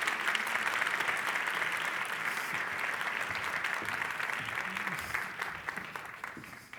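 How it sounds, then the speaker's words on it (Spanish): An audience applauds steadily as panelists take the stage at the CIRPCOM 2025 communication panel, a sustained even wash of many hands clapping that thins slightly toward the end. "Los recibimos con un aplauso"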